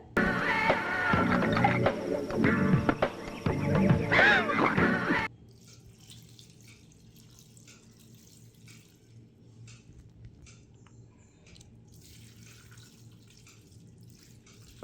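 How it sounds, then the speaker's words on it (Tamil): Rum is poured into a rich plum cake mixture for a Christmas cake. A loud, steady splashing pour runs for about five seconds and then stops, leaving faint dripping and quiet. "540 ml ரம் ஊற்றின்னுக்கிறேன்."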